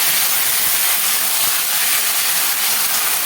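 Taro stems hit hot oil seasoned with dry red chilli, panch phoron and bay leaf, giving a loud, steady, close hiss of frying that fills the whole moment without any talking.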